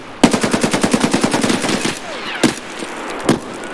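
Automatic gunfire in the shooter game Escape From Tarkov: a rapid burst of about fifteen loud, sharp shots in a steady rhythm, then a pause and two more isolated single shots.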